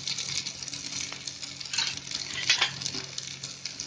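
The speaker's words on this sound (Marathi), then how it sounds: "त्याच्यामध्ये अद्रक लसूणची पेस्ट टाकायची" Ginger garlic paste and curry leaves stirred into hot oil for paneer bhurji make a bright, crackling sizzle with quick scraping strokes of a spoon against the pan.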